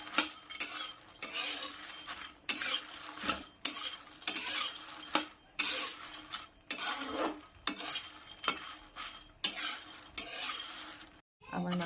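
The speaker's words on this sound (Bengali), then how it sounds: "এখানে আমি মাখানাগুলোকে কড়াইয়ে দিয়ে মুচমুচা করে ভেজে নেব।" Makhana (fox nuts) frying until crisp in a kadai, stirred with a spoon: a steady run of rhythmic scraping strokes against the pan over a light sizzle, close and clear, with no talking.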